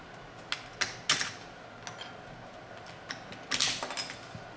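Plastic climate control buttons are pried out of a Saab 9-3 dash, giving a handful of sharp little clicks and snaps at irregular intervals, close and fairly quiet, with a brief rattle of plastic near the end.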